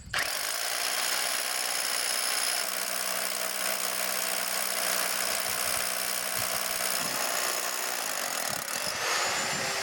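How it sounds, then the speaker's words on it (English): A steady, continuous high-pitched whine of a power drill boring holes a few millimeters deep in a deck ledger board, with a lower tone joining midway, loud and close throughout. "drilling a few millimeters deep"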